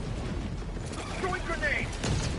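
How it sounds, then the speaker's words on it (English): A sentry turret deploys in the video game Helldivers 2, giving off mechanical whirring and clanking with a burst of crackle, set against continuous game noise, with a voice talking over it. "Deploying sentry"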